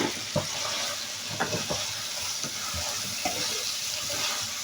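Karela chicken curry with fresh coriander being stirred in a pan, a steady close sizzle broken by scattered scraping and clinking spoon strokes, with no talking.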